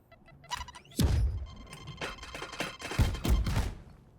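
Grenade from the agent Raze in the tactical shooter Valorant, lobbed with a running throw: a muffled launch followed by several heavy, booming thuds and bursts that come close together and ring out loudly.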